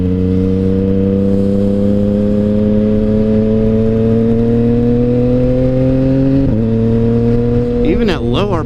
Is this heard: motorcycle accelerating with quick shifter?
yes